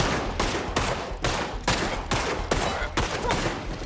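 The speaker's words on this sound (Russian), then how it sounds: "по мне кто-то стреляет" Rapid bursts of gunfire ring out in a shooter video game, loud repeated volleys roughly every half second, sharp and close, with no talk over them.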